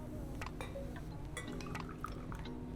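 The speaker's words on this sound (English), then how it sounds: "let's just get rid of that water into this cup." Water tipped from a Kalita 185 dripper into a cup at a coffee brewing station, a soft trickling pour with faint drips and a light clink of ceramic, quiet against a steady low background hum.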